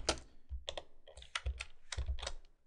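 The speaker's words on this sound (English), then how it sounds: "begin typing in their name" Fingers type on a computer keyboard in short bursts of quick, crisp key clicks, close and fairly quiet, with brief pauses between groups of strokes.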